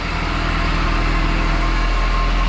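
A motorcycle engine idling while it warms up, a loud, steady low rumble that holds an even level throughout, with no talking over it.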